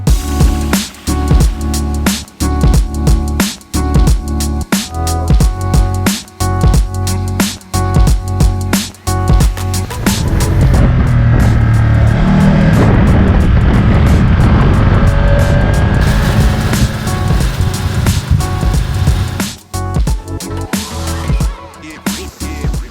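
A Ducati Diavel motorcycle rides on open roads, with a steady, loud engine and wind roar running for several seconds mid-clip between stretches of music.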